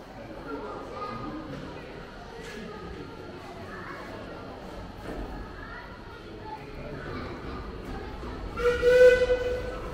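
A steam train at a steam museum and gardens chuffs quietly in the distance amid outdoor chatter, ending with a short whistle blast.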